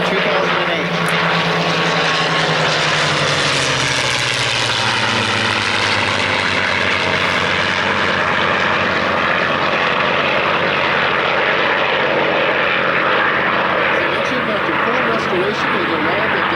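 Restored vintage P-51 propeller aircraft, its piston engine roaring loud and close with a sustained throbbing drone that shifts in pitch as it passes, filling the whole stretch.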